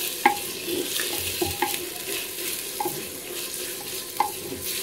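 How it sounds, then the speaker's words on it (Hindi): Onions fry in a home kitchen pan with a soft, steady sizzle, punctuated by a few sharp clinks and taps of a stirring spoon against the pan. "देखिए प्याज हमारा फ्राई होना शुरू हो गया है"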